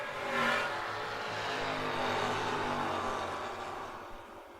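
A Chevrolet Malibu wagon in M-Stock automatic and a 1980 Corvette AA stocker race at a drag strip, with engines roaring loudly at a distance in a sustained rising and falling rumble.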